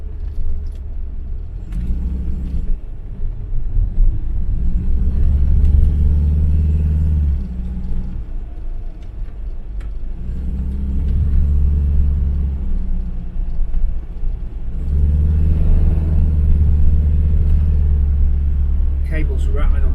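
Ford Cortina MK3 with a Pinto engine, FR30 cam and automatic gearbox pulling along the road, its engine rumbling and rising in repeated surges through gear changes, heard from inside the car with someone talking over it.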